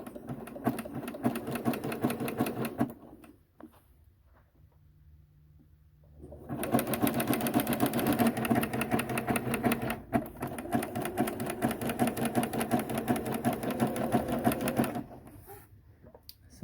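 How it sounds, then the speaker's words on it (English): A sewing machine runs a zigzag stitch along rolled fabric edges of a ballroom gown float, whirring steadily and close in two long runs, with a pause of a few seconds between them and no voices. "Just rolling the very edge of this over and running a zigzag stitch to finish these edges"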